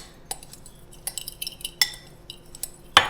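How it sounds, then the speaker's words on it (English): Dry muffin ingredients being stirred in a bowl with a utensil, giving a series of light scraping clinks and taps that grow louder toward the end, with no talking. "I'm just going to kind of just stir right up my dry ingredients"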